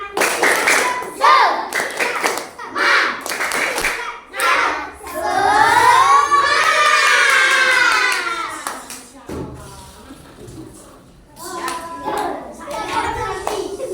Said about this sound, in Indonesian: Lagi ya, sekali lagi. Tepuk semangat.